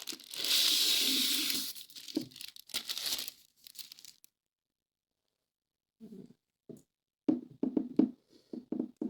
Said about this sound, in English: Then it seems like it has a protective plastic bag.